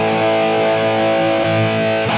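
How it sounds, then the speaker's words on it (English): A heavily distorted electric guitar chord sustains through a Fractal amp modeler set to a Soldano rhythm amp model, dense and loud with a thick buzzing tone, ending in a brief picked transition. "This is the sound of the models, the Soldano rhythm models."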